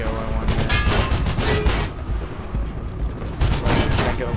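Gunfire in Mirror's Edge: a steady stream of rapid shots and bursts crackles across the whole stretch, dense and fairly loud, with game sounds churning underneath.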